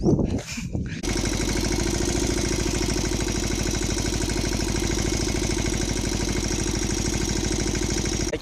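A tractor engine starts after a brief rustle in a field and settles into a loud, steady chugging idle with a rapid rhythmic knock, close by and continuous.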